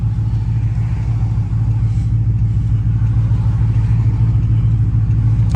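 A steady, loud engine drone with deep rumble holds throughout, a 392 engine with repaired exhaust accelerating hard under load with no clear rise in pitch.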